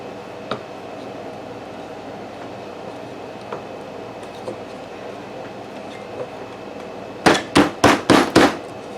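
A quiet room with a few isolated taps, then a quick run of five loud, sharp hammer blows driving nails into wood close by near the end.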